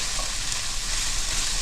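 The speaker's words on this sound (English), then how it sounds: "keep that moving, keep that frying" Vegetables sizzle and crackle steadily in a hot pan, a close, continuous frying hiss with no voices.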